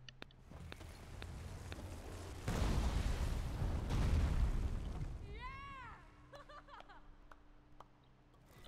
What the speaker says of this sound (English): Always good to have an explosion.